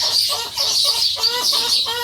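Backyard chickens cluck in a rapid, repeated series of short calls close to the microphone on a wet morning outside a potting shed after a storm, with a steady hiss of rain or wind behind them and no talk.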